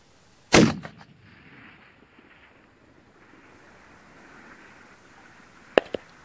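A .300 RUM rifle fires one loud, sharp report outdoors at a long-range shooting spot, with wind rushing for several seconds afterward and a faint second crack near the end.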